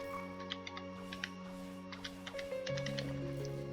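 Light taps of typing on a computer keyboard come in short scattered bursts, small clicks set against steady tonal game music from Blox Fruits.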